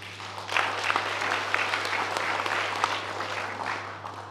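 A seated audience at a 2023 durian seminar applauds after a talk, a continuous patter of many hands at moderate distance, with a low electrical hum running steadily underneath.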